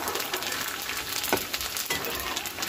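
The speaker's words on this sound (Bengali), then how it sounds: "তেলটা ফুল গরম করে নিলে ফুচকা একা একাই ফুলে ভাজা হয়ে যায়।" Puchka puffing up in very hot oil, a steady soft sizzle and bubbling fry throughout with a couple of faint clinks, no one talking.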